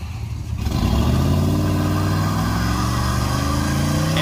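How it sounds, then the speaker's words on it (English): A car from an LX8 build does a burnout in front of a house, its engine roaring steadily at high revs after a brief quieter start, loud and close with no voices. "I'll put up a little video real quick of it doing a burnout in front of the house"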